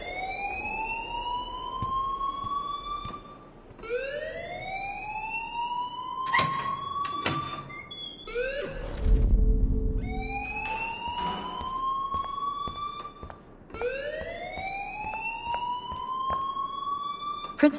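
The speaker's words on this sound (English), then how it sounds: "please turn off that alarm since that's your job" A loud, repeating whooping alarm rings through a school building in Life Is Strange, each rising wail following the last, with a brief thud and rumble midway and no talking.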